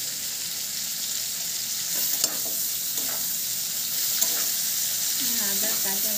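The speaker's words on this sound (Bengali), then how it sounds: "আদার কাঁচা গন্ধটা না যাওয়া পর্যন্ত আমি এটাকে একটু ভেজে নেব।" Ginger paste fries in hot oil over a medium gas flame for a shrimp curry, producing a loud, steady hiss and sizzle with faint stirring scrapes and no talking.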